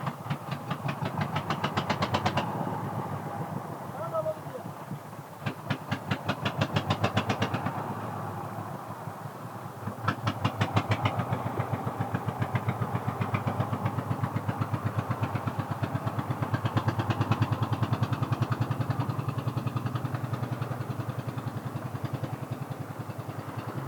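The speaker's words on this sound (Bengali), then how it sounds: "নৌকা স্টার্ট দেওয়ার চেষ্টা করতে আছে" A small river boat's engine on the Tetulia riverbank is cranked several times, catching in rough rapid bursts that die away before it finally runs on in a steady, close, chugging idle.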